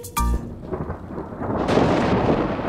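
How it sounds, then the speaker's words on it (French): In a children's cartoon, a sharp, loud thunderclap bursts out first, then heavy rain hisses and patters steadily until the end. "Pluie, disparaît, revient une autre journée."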